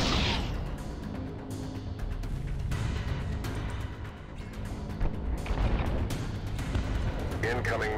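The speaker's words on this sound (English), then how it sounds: "Incoming missile." Incoming missile attack in the sci-fi roguelike deck-building game Breachway, with repeated booming impacts and blasts over a dense rumbling bed, layered with electronic ship effects.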